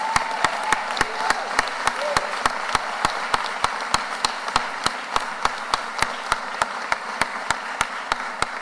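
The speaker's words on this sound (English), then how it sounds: "Please give our mayor a big round of applause." An audience applauds the mayor of Philadelphia at a public announcement, a steady wash of clapping with sharp, regular close claps standing out on top.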